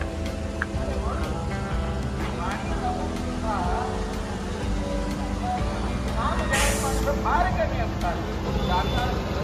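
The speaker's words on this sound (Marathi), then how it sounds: "ट्रॅफिक फुल जाम झाला आहे." Jammed road traffic near a crowded temple fair in Adivare, with buses and other vehicles rumbling steadily nearby, a short hiss like an air brake partway through, and people talking over it.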